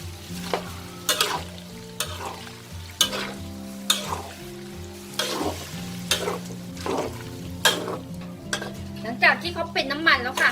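Pork fat sizzles and spits as it fries in a pan, with repeated scraping stirs at a steady rhythm close by.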